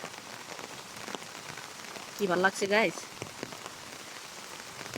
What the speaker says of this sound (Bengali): আর সেই সাথে তো আছে আমাদের টুকটাপ বৃষ্টির সাউন্ড